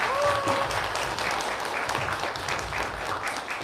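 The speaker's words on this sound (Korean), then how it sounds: "진동석 강사님을 열렬한 박수로 맞이해 주시기 바랍니다" Warm audience applause greets a lecturer at a parents' university-admissions information session in Gangjin, steady dense clapping filling the whole stretch, with a brief voice near the start.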